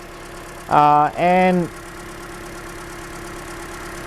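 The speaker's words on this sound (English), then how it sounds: "I already didn't like the sound of the engine" A Toyota Corolla engine idles roughly with a slight shake and hesitation, giving a steady, moderate hum throughout, while a person says a couple of brief words near the start.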